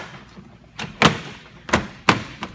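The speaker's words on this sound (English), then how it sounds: "put the top of the door panel in like this." Three or four sharp thumps sound at a steady pace as a car door panel is pressed and snapped into place during a door lock actuator replacement, each knock close and distinct with quiet between them.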